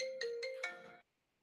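Cell phone ringtone for an incoming call, three quick rising electronic chime notes played clearly and close, then cutting off into near silence.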